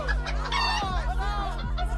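A chicken clucks and croaks in a rapid, close, loud run of throaty calls over a steady low hum, with no speech.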